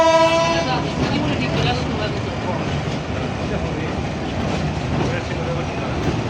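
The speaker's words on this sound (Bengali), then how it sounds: "সান্তাহারমুখী 22 ডাউন কমিউটার ট্রেনটি গাইবান্ধা স্টেশন ছেড়ে দিল।" A Santahar-bound commuter train pulls out of Gaibandha station in Bangladesh: a brief horn blast opens, then a loud, steady rumble of wheels and carriages rolls on continuously.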